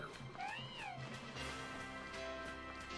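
A cat meows in the video game Pokemon Shield with a rising-and-falling cry over steady background noise, followed by fainter tonal sounds amid continuous outdoor ambience.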